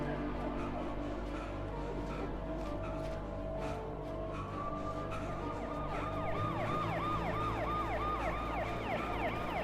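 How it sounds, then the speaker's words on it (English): A police car siren in the video game Alan Wake, set in a forest, wails in repeated rising and falling sweeps that come in over a low background rumble, moderately distant and without talk. "that police car, it was just driving through the forest"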